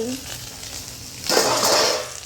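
Vegetables frying in a hot pan and being stirred: a quiet start, then a louder, steady sizzle with light scraping from about the middle, close by.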